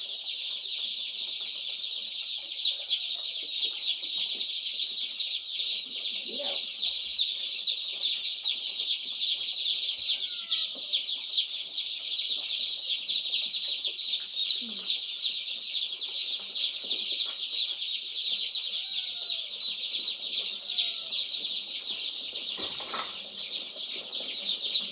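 A crowd of newly arrived meat-bird and turkey chicks on a farm, a dense, continuous chorus of high, rapid peeping throughout, close and steady, with occasional softer chirps and rustles beneath.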